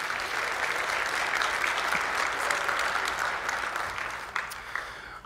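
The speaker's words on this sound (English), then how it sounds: "Will you guys give them a round of applause?" A church congregation at St. Mark's applauds its worship team during a Sunday morning modern worship service, a dense, steady wash of many hands clapping that holds for several seconds and thins slightly toward the end.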